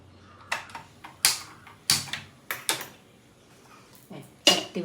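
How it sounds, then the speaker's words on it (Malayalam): A pan is set on a kitchen stove for frying crushed dried fish, giving a series of sharp metallic clanks and knocks spaced irregularly over a few seconds, close and fairly loud in a quiet room. "ചട്ടി വെച്ചു"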